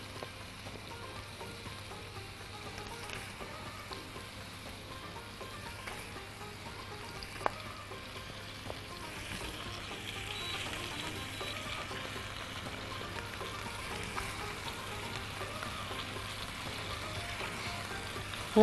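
Chicken kofta rolled in flour frying in a mix of butter and oil, giving a steady, quiet sizzle and crackle like light rain that runs unbroken throughout with no voices.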